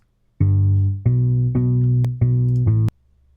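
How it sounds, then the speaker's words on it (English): Synth bass line played in Logic Pro X, five sustained buzzy bass notes in a short rhythmic phrase, loud and alone before stopping abruptly. "Let's hear that bass."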